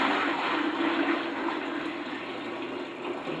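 Steady rush of 168-degree hot water pouring continuously into a cooler, a broad even gush with a hollow resonant tone, close and fairly loud throughout.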